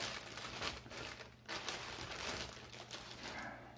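Close crinkling and crumpling of packaging as a Kyosho Syncro EX-6R radio control transmitter is unboxed, with soft rustles in irregular bursts and no speech.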